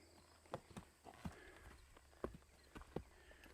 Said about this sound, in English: Going downhill, a horse will naturally gain speed.